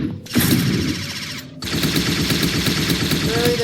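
Rapid automatic gunfire rattles continuously in the Unity FPS Microgame, a first-person shooter video game, loud and dense, broken by a brief pause before it resumes.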